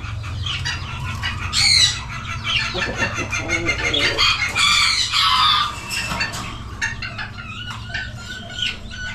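Chickens and fighting roosters in a large coop, a busy mix of clucks, squawks and crowing with some wing flapping, loud and close over a constant low hum.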